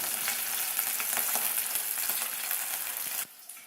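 Two fish lightly frying in a pan give a steady, close, dense sizzle with crackling pops throughout, which drops sharply to a quieter hiss near the end.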